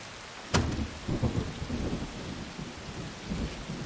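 Rain falls steadily in the video game Sifu, with a sharp crack of thunder early on followed by rolling rumbles and pattering drops on the ground, with no voices.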